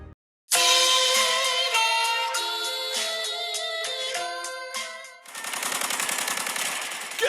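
Gunfire sound effects for an audio drama about soldiers in a swamp: tonal, musical layers give way to a sustained rattle of rapid machine-gun bursts, loud and close, with no voices.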